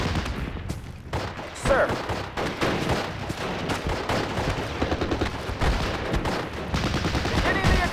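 Sustained gunfire fills the scene in Steel Division Normandy, a WWII video game battle, with dense overlapping rifle and machine-gun bursts that sound loud and continuous, while a voice briefly speaks over the shooting.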